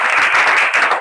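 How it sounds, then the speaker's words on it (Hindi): A classroom or school audience clapping for themselves, a short burst of many hands clapping together, close and fairly loud, with no speech over it. "ताली बजाइए पहले अपने लिए।"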